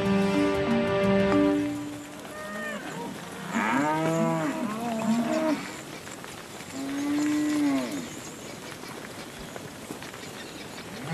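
A herd of grazing cattle on an open African plain lows in several long, drawn-out moos, some overlapping and fairly close, separated by quieter stretches of outdoor ambience.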